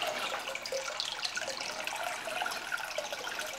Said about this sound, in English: As you can see, tank is filling up pretty quickly